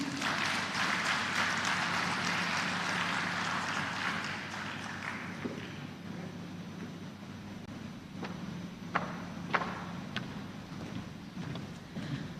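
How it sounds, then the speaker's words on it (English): Audience applause at a finance event in Nigeria, a broad wash of clapping that is fuller at first and then thins, fading to scattered individual claps near the end. "I think that deserves another round of applause."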